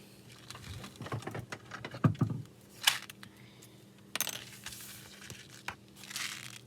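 Paper card overhang being trimmed at a craft table for an easel-style gumball shaker card: sparse, crisp cutting and crinkling sounds, with a few sharp snips scattered between quieter stretches, close and moderately quiet.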